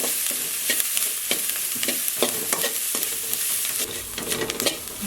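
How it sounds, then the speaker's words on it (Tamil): Green chilies sautéed in a pan with chili powder, garam masala and turmeric: a steady soft sizzle under repeated rhythmic scrapes of a spatula stirring the mixture. "இதோட பச்சை வாசனை போகிற வரைக்கும் நல்லா வதக்கிக்கலாம்"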